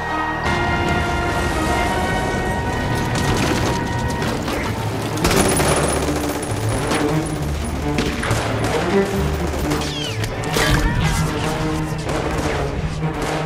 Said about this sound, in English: Open fire, men!